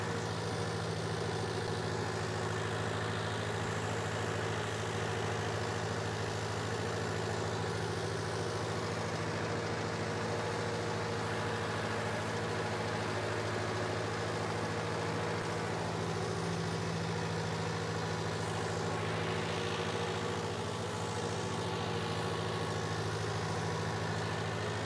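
A Mahindra Arjun Ultra 1 605 DI diesel tractor engine with a modified diesel pump runs at a steady 1200 rpm, a continuous low, even rumble that stays loud and unchanging throughout with no talk.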